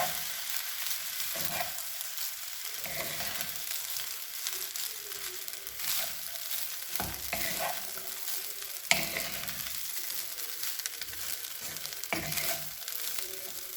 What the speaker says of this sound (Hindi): अब ऊपर से प्याज डालेंगे, सोया सॉस, काली मिर्च, फिर मिक्स करेंगे।